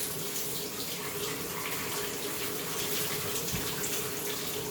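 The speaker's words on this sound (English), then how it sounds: "Just rinsing this out, making sure that's all clean." Tap water runs steadily over a Bissell PowerForce Compact vacuum filter being rinsed, a continuous close splashing gush with no talk.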